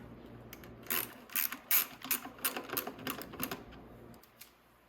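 A wrench ratchets on 12 mm bolts holding the fuel tank of a 250cc chopper motorcycle, giving several close bursts of quick clicking separated by short pauses, with no talking.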